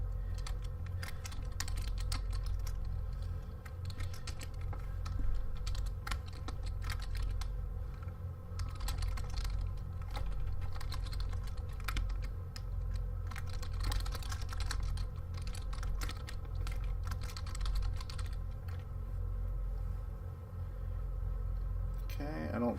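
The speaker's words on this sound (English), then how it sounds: "When you're on Unicom and VATSIM, you have to do everything by typing." Steady clicking of a computer keyboard runs throughout as someone types chat messages in a flight simulator on Unicom and VATSIM, layered over a constant low engine drone, with occasional talk.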